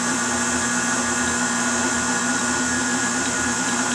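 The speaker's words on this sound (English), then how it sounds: "we're going to stir it on speed 2 for a few minutes" A stand mixer fitted with a dough hook kneads homemade French bread dough on speed 2, giving a steady, loud motor whir and hum that holds constant throughout.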